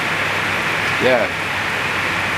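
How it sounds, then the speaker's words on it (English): Steady rain falls through the night in Puna, making a constant broadband hiss that fills the whole clip, with a brief spoken word partway through. "We can handle the rain. It's been going like this all night long."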